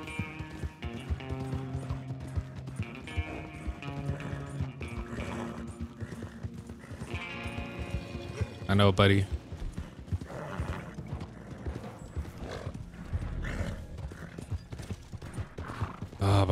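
Horse hooves pound at a gallop in Red Dead Redemption 2 Online, a rapid clip-clop under layered game music and sound effects, with someone briefly speaking.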